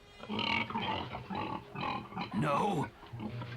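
A cartoon pig grunts and snorts in rough bursts, close and clear, mixed with character voices talking over and between the grunts.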